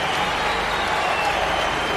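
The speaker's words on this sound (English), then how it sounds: "See that applause" Stadium crowd at a Primera División football match between Getafe and Real Madrid, a broad, steady wash of applause and crowd noise filling the ground throughout, with no individual voices standing out.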